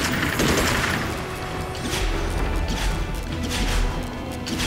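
A bullet bomb spell detonates in the Magicka video game, a loud, dense burst of crashing, gunfire-like blasts and low rumble that rolls on for several seconds with repeated impacts.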